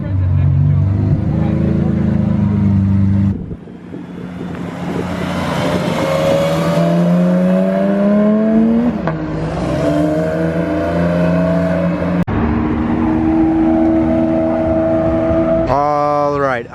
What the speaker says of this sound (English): Oh, the Aventador's leaving.